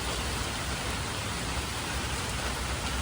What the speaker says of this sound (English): You can hear the rain falling.